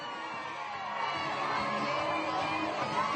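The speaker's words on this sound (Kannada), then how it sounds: "ಪುಷ್ಪವೃಷ್ಟಿ, ಹರ್ಷೋದ್ಗಾರ, ಸಂಭ್ರಮ ಮೋದಿ ಅವರನ್ನ ಸ್ವಾಗತಿಸ್ತಾ ಇದೆ ಗುಜರಾತ್ನಲ್ಲಿ" Crowds at Prime Minister Modi's Vadodara roadshow in Gujarat, amid flower showers, cheer and whoop in a steady, fairly distant wash of voices that grows slightly louder midway.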